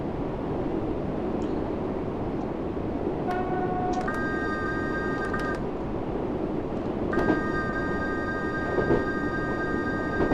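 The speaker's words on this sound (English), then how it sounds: "There is quite a noticeable loop in the whistle sound" Electric Class 484 train horn in the Train Sim World game, two sustained tonal blasts with a steady loop over constant rolling rail rumble, no talk.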